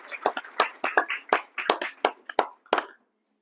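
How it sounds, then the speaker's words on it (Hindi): Audience at a Republic Day school event claps after a self-composed poem recital, an uneven burst of handclaps roughly three seconds long that stops abruptly into silence. "एक बार फिर से जोरदार तालियां"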